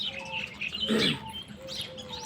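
Small birds chirp outside a village house in the early morning, with thin, high calls recurring softly over a low background hum and no talk.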